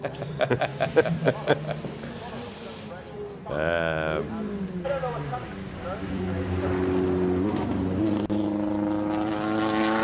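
An endurance race car at the Simola Hill Climb, apparently missing gears, sounds a rapid burst of popping exhaust, then engine tones rise and fall and a strong whine sweeps up, moderately close, with talk throughout.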